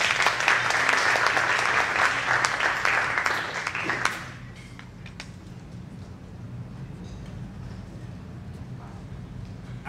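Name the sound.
audience applause for a jazz band soloist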